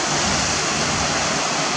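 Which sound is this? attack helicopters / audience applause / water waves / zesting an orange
water waves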